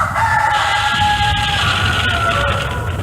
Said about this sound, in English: Yes, Rooster.